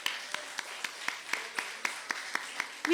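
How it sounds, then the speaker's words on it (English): Faint, evenly spaced handclaps from a small audience thanking the performer Shruti ma'am at Avrti 2024, roughly four crisp claps per second in a steady rhythm with no talking. "Can I have a round of applause for Shruti ma'am"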